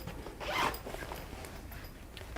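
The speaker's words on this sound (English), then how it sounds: "This one has a zipper" Zipper drawn along a bag compartment, one close, raspy pull lasting a couple of seconds.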